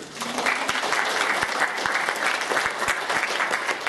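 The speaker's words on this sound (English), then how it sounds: "Can you get a round of applause for David and Staley?" A classroom audience at a university lecture on ideation and wireframing applauds two participants, dense steady clapping filling the room for the whole stretch at moderate loudness.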